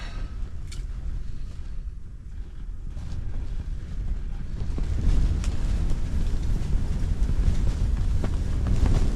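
Wind blows across a frozen Lake St Clair during ice fishing, a steady low rumbling buffet against the microphone that swells into a stronger gust partway through, with no talk.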